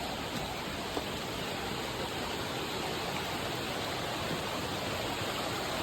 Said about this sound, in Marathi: आमच्या इकडे वाघरीवाडीमध्ये पण बघा ओहोळ कसो भरानो होता.